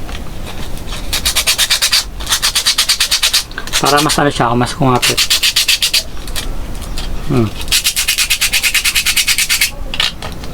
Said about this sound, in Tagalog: Yan, lihain natin.